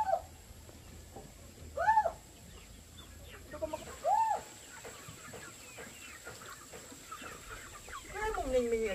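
Chickens cluck at a rural home, with several distinct clucks and squawks spread over a quiet background and faint voices in between.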